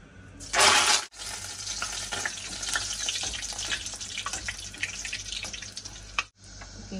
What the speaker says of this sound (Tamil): அடுத்து வந்து கருவேப்பிலையை பொறிச்சு எடுப்போம்.